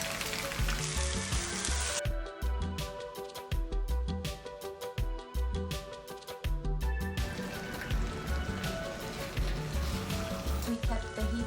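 Pad thai noodles and tofu fry in an oiled pan with a loud, crackling sizzle that briefly drops in and out, over steady background tones.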